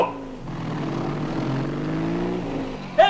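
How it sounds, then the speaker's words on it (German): Car engine effect in a 1960 German crime radio play, a steady mid-level motor rumble running throughout, with a brief louder burst at the very end. "Auto!"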